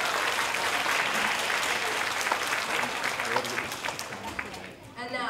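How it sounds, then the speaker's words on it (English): Audience applause fills a school's Hispanic Heritage celebration, a dense, steady crowd clapping that stays loud before thinning and fading toward the end. "Let's give her a round of applause."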